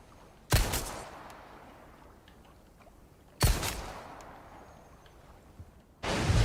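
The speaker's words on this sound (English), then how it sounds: "Definitely shoot them." Three loud, isolated gunshots from the Resident Evil 4 video game ring out a few seconds apart, each a sharp crack that trails off into a quiet room-tone background.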